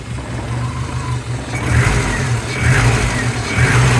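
A 1982 Saab 900 Turbo barn find with a misfiring cylinder runs roughly, its engine rising in several uneven throttle blips over a steady low rumble, close and fairly loud.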